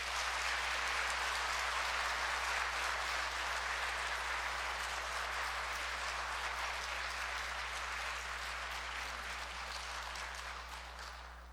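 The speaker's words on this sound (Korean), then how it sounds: "큰 박수로 환영해 주십시오" A church audience at a Lenten lecture at Mok-5-dong Catholic Church claps to welcome a priest lecturer, sustained broad applause from many people that slowly tapers off near the end, with a steady low hum underneath.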